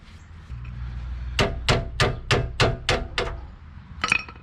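A screwdriver is hammered to drive out a pin on a boat trailer wheel bearing: seven sharp metallic strikes in a quick steady rhythm, close and loud, followed by one more knock after a pause.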